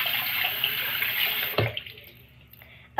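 Water runs from a tap into a sink in a steady close hiss for about a second and a half, then shuts off, leaving a faint drip and a small knock.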